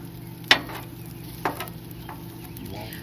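Cut noodles stir-frying and browning in a pan: a soft, steady sizzle with two sharp scraping clicks from stirring, heard up close.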